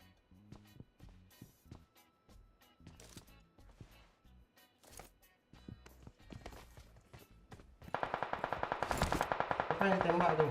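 Gunfire in a shooting video game: scattered footsteps and single shots at first, then a sustained loud automatic burst with rapid regular rounds over the last few seconds, with brief talk.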